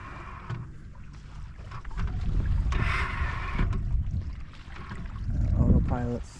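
Wind picking up around a sailboat moving at about two knots on Lake Michigan near the Portage Lake entrance, a rushing gusty noise mixed with water wash against the hull, swelling midway and again near the end, with a voice talking.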